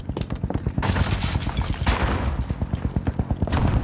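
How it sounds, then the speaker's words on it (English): In a multiplayer shooter game, a grenade is launched and explodes amid rapid gunfire, a steady rattle of close shots broken by a couple of heavier booming blasts. "I'm firing a grenade just to see what's about"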